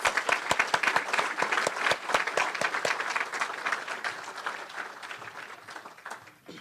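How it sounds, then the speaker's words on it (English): A Rotary Club meeting audience claps for its guests, distinct individual hand claps ringing out over a smaller crowd's applause that thins and fades toward the end. "Let's give a round of applause for our guests."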